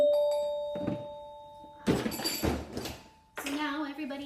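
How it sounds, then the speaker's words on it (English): Resonator bells struck in a classroom music activity, bright sustained metallic tones ringing out in a few separate strikes with overlapping decay, fairly close and alone. "as soon as you get your bells, you can start playing on them"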